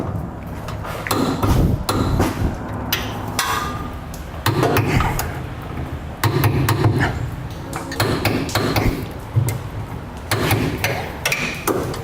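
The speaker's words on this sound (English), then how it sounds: "Now we'll torque all the ones underneath." Repeated metallic clanks and thuds from a wrench torquing rail bolts under the bed of a 2016 GMC Sierra during a B and W underbed gooseneck hitch installation, irregular bursts close by with workshop clatter and no talk.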